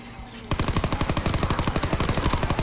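A PPSh submachine gun fires in Call of Duty WWII Zombies: a sudden, loud, sustained burst of rapid, evenly spaced shots that keeps going to the end.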